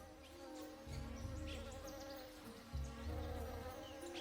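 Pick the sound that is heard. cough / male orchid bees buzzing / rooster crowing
male orchid bees buzzing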